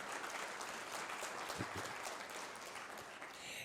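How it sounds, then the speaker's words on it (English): An audience applauds at a Headway in Scotland event, a faint, distant, steady wash of clapping that carries on throughout with no voices over it. "Yeah, I see that, I got an applause."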